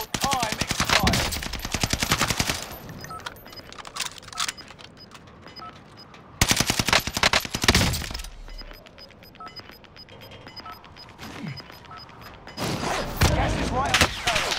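Bursts of rapid video-game gunfire come in loud volleys at the start, middle and end, with quieter mechanical clicks and game effects in between.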